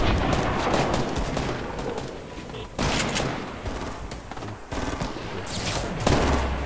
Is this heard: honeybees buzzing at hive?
no